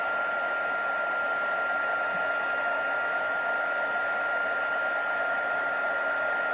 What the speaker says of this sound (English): So what the heat gun is doing is it's melting this powder